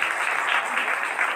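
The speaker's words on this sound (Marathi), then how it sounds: "एकदा जोरदार टाळ्या प्रीतीताईसाठी." An audience at a Savitribai Phule birth anniversary celebration bursts into brief, dense applause, a steady wash of many hands clapping at moderate distance.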